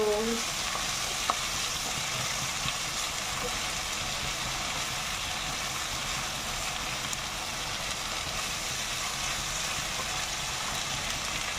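Steady, close sizzling and crackling of boiled papaya flowers and fried anchovies stir-frying in a hot pan, continuous throughout, with occasional faint clinks of a utensil.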